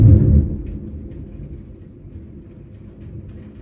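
Thunder rolls after lightning during pouring rain: a heavy low boom at the start that eases into a long, steady rumble, with no voices.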